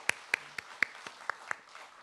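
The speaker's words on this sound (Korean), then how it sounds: "우리 주님께 영광의 박수를 한번 했으면 좋겠어요." A small congregation at a dawn church prayer service claps, giving a handful of sharp, separate claps spaced irregularly over two seconds, fairly faint and sparse rather than a full ovation.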